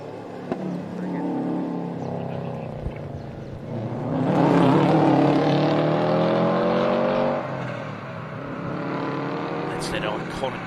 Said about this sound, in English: That's that iconic boxer sound